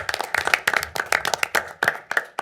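Applause at a city council meeting in Maquoketa: a small group clapping close by in quick, uneven bursts, with individual hand claps clearly separated.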